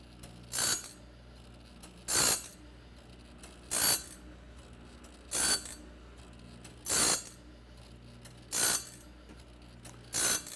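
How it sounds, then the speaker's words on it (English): A TimberKing auto sharpener grinds the teeth of a sawmill blade, giving seven evenly spaced, harsh grinding bursts about every one and a half seconds over a steady low machine hum. "we're showing you today how fine this machine works on the grinding"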